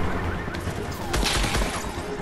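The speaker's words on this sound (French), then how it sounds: "Ça tire un sniper." Sniper gunfire in a Fortnite duo match: a couple of sharp, loud shots cut through a dense mix of game noise and ambient clutter over about two seconds.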